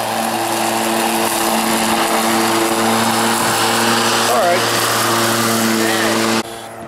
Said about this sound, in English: the electric lawnmower seems to be doing very well